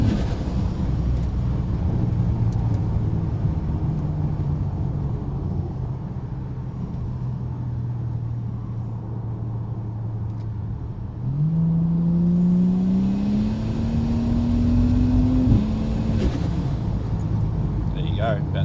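A car cruises in third gear with a steady low engine drone and road rumble, the pitch rising briefly partway through as the engine pulls harder, then settling; close, continuous, with no clear speech.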